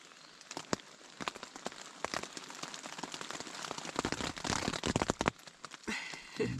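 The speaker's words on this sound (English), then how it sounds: "Because it's still raining a little bit." Light intermittent rain pattering and dripping close by in a forest, irregular taps and splashes over a soft background hiss, with no talking.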